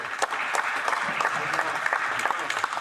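An audience in a parliamentary setting gives a sustained round of applause, dense, even clapping filling the short stretch with faint voices mixed in.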